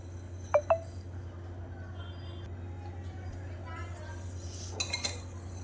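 A utensil stirs sugar into cut amla pieces in a pot at home, with two sharp metallic clinks early on, a soft grainy stir, then a quick run of clinks near the end under low background hum.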